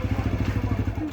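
A TVS motorcycle on a test ride at a college promotional event gives off a steady, pulsing low engine throb, close and moderately loud, with a voice faintly in the background.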